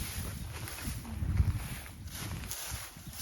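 A KRT140 boat engine runs with a steady low rumble and some fluctuation in level, fairly close, with no talking.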